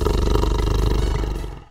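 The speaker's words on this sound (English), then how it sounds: "A tiger makes a grr sound." A tiger gives one loud, close, sustained roar with a rough, growling texture that fades out after about a second and a half.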